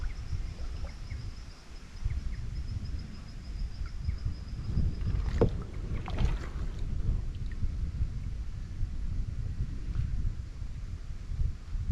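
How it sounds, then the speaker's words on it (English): Steady wind buffets the microphone during a kayak camping trip on open water, a continuous low rumble with a couple of brief louder gusts midway and faint bird calls. "that wind"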